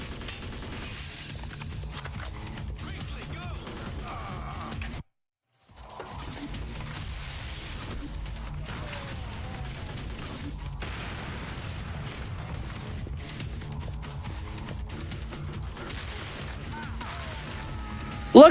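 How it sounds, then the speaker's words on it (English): Rocket launcher fire and explosions in a first-person shooter video game, a continuous clatter of blasts, pops and crashes that drops out briefly near the start before resuming at a steady moderate level. "I got a rocket launcher too"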